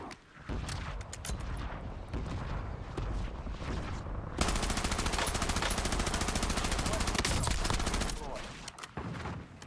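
Rapid automatic gunfire and bursts of shots in the Call of Duty Warzone video game, dense and continuous, with heavier sustained firing in the middle and brief gaps near the end.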